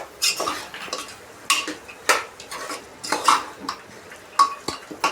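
A spoon scrapes and clinks against a pan as chickpeas are stirred into masala, with close, uneven knocks and scrapes repeating throughout.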